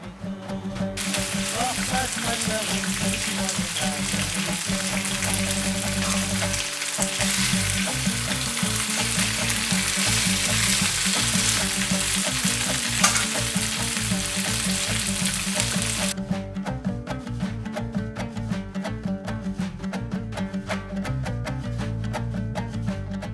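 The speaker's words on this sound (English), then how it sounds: "add the tiniest amount of oil just so that you can crisp the edges of your chicken" Chicken pieces fry in a thin film of oil in a pan, giving a loud, steady sizzle and crackle throughout, with scraping and stirring noises over it and a change in texture toward the end.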